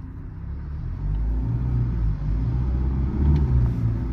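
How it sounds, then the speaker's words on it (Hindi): Kia Sonet and Tata Nexon compact SUVs at full power in a drag race, a loud deep engine rumble that builds and holds, swelling toward the end, with no talk. "अब दोनों गाड़ी फुल पावर पे चलेगी"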